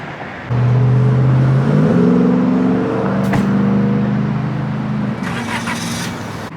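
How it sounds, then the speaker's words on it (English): A 1990 Toyota truck engine running rough, loud and close, with a steady drone that rises and shifts in pitch as it revs, plus a brief sharp click midway and no talk. "The truck's still running a little rough"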